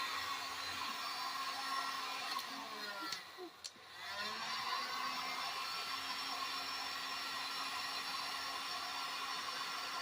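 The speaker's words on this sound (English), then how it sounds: "Now we gotta get a heat gun to heat them to the wire." Heat gun blowing a steady, loud whoosh to shrink tubing onto wire while installing a whip on a four-wheeler, continuous for the whole stretch with a brief dip partway through.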